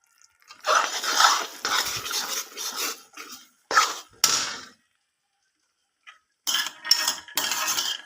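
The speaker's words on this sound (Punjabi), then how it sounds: "ਆਟਾ ਆਪਣਾ ਦੇਖੋ ਭੁੰਨਣ ਲੱਗ ਗਿਆ" Wheat flour roasting in a pan for alsi pinni, stirred with a utensil that scrapes and clinks against the metal in several bursts separated by short pauses, close and fairly clear, with no talking.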